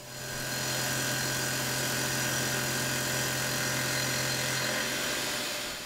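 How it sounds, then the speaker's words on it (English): A milling machine faces a part with a superfly cutter at 2500 RPM, a 10 thou depth of cut and 40 inches a minute, giving a steady, loud, close whine with a constant hum underneath and no pauses. "start with a super fly to face off the part, running it at 10 thou depth of cut, 40 inches a minute, and 2500 RPM"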